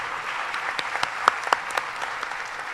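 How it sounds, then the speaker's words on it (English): Conference audience at a technology and innovation session applauding its panelists, a steady crowd clapping with a few sharper nearby claps standing out. "give them a great round of applause"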